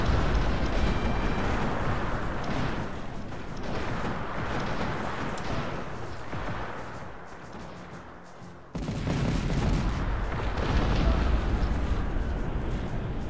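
Continuous booming cannon fire and explosions in the video game Cossacks: Back to War rumble throughout, dense and loud, with a brief dip before the barrage resumes.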